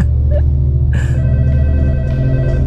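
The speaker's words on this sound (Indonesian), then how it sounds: "Suara telepon nyala." A telephone rings in the Roblox game Interliminality, a loud, steady electronic bell trilling repeatedly without pause, clear and close.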